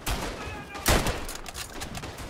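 Colonial rifle shots in the WWI shooter Verdun: a couple of sharp, loud cracks a moment apart, with other gunfire echoing over the battlefield.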